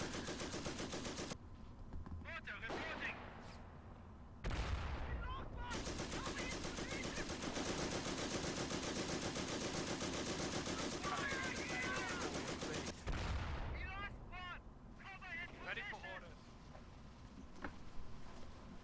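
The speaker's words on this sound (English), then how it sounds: "this is where the MG literally just mows the shit out of this Pioneer squad" Long bursts of machine-gun fire in the World War II strategy game Company of Heroes mow down a Pioneer squad, rapid and sustained with short pauses and chirpy game sounds between.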